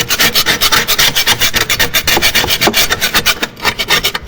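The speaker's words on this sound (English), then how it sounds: "So I'll give it a scrape round first. This is my old putty knife, but I find it's really good for scraping." An old putty knife scrapes a rusty cast iron antique skylight in fast, rhythmic rasping strokes, loud and close, with a steady back-and-forth pattern and no talking.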